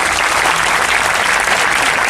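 A large seminar audience at a public speaking training session claps in dense, continuous applause, loud and close, with no voices over it.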